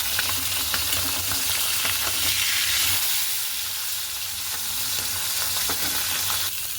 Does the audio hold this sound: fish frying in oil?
yes